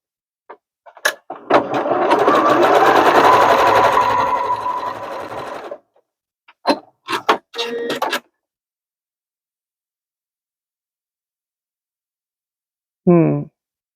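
A sewing machine stitches a practice zigzag for edging on a Butterick 3383 pullover top, whirring steadily for about four seconds, then running in a few short bursts, with a brief voice near the end.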